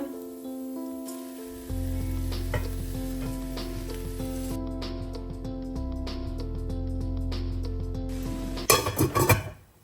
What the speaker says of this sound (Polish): Dodaję koncentrat i podsmażam jeszcze chwilę.